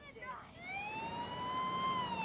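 A St. John ambulance siren wails in a rising and falling sweep, fairly distant and faint, under a low background rumble.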